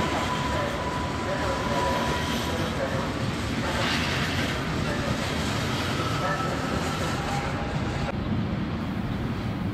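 A steam locomotive on a promotional run between Berlin and Szczecin rolls along the rails with a steady, broad rumble and clatter, loud and continuous throughout, and a voice talks over it briefly.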